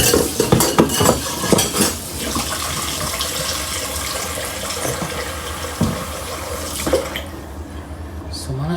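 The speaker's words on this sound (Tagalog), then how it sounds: "So manghugas ta." Washing up in a kitchen sink with running water, dishes and cutlery clattering in repeated bursts over a steady water rush, close by, with a voice speaking in places.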